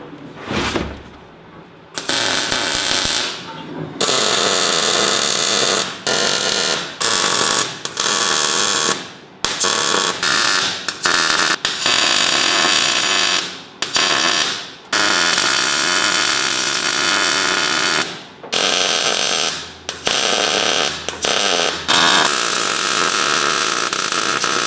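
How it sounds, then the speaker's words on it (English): Welding on an 80 series Land Cruiser ute being chopped into a 6x6 gives a loud, close, continuous crackling buzz, broken into long bursts by short pauses and abrupt stops, with no talking. "So all the sparks from the welding are just gonna fall on top of me."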